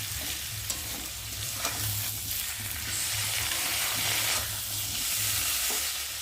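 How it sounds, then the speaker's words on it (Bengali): Spice paste of turmeric, salt, chili powder, ground cumin and ginger frying with potatoes in oil, a steady close sizzle broken by occasional spoon scrapes and stirring knocks, with no voices. "মশলাটা ভালো করে আলুর সাথে কষিয়ে নিয়েছি"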